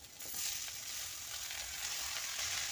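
Chopped onion and green chillies fry in a pan with a steady, close sizzle that holds at an even level throughout, with no voices over it.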